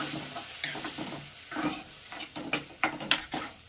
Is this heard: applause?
no